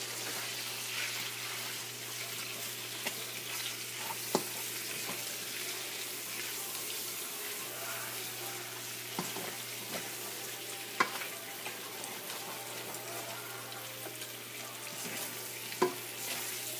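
Beef stir-frying in a pan for beef and broccoli: a steady, moderately loud sizzle with occasional sharp clicks and clatters of stirring, a faint low hum underneath, and no talking.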